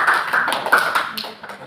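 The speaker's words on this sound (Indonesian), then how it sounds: "Oke, tepuk tangan." A class of pupils claps their hands after a teacher's prompt, giving a short burst of scattered, uneven claps close by, with a few louder slaps standing out over the room.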